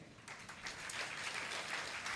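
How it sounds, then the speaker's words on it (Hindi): An audience applauds at a seminar hall event, a quiet but steady wash of many hands clapping that swells slightly after the start and continues evenly throughout. "आपकी तालियों का क्रम रुकना नहीं चाहिए"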